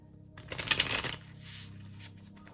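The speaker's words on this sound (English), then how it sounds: "One more good shuffle." A quick riffle of playing cards being shuffled, a brief burst of flapping and rustling followed by a softer settling of the deck.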